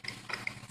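Leica SM2500E microtome mechanism ratcheting back a notch, a few quick close metallic clicks within a brief moment.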